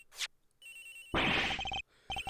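A telephone rings in Miles Edgeworth Investigations, with short bursts of electronic trilling, a brief gap, then more rings. Clicky game blips come before it.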